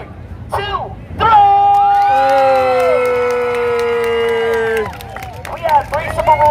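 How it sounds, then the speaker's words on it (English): A street-show crowd in Times Square, New York, cheers and whoops loudly for about three and a half seconds, with sustained yelling voices, then the noise settles into crowd chatter. "I need everybody to clap their hands and make some noise."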